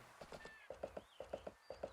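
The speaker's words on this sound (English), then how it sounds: "Let me call my horse." Horse hooves clip-clop in the farming game Story of Seasons: A Wonderful Life, a quiet, steady, evenly paced run of hollow knocks in groups of three, heard alone with faint game sounds behind.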